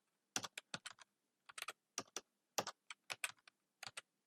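A computer keyboard is typed on during a JavaScript coding lesson. Short, close bursts of crisp key clicks come in uneven clusters, with quiet gaps between them and no voice.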